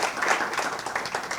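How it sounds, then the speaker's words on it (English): An audience gives a round of applause for a guest at an AAPI event conversation, a steady wash of many hands clapping at close range for the whole moment. "I want us to all give Ms. Wang a round of applause"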